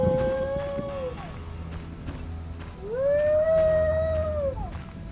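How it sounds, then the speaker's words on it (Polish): In The Witcher video game, a seemingly infected dog gives two drawn-out howls, a brief one and then a longer rising and falling one, loud and near, over a constant background hum. "Coś mi się zdaje, że ten piesek jest jakiś zarażony."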